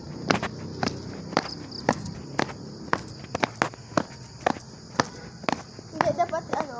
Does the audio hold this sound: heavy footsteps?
yes